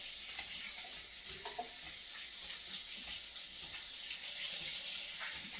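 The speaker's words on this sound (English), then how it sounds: "Now I gotta go wash my hands" Tap water running steadily in a kitchen sink during handwashing, a constant broad hiss with faint splashes, fairly quiet and close, no voices.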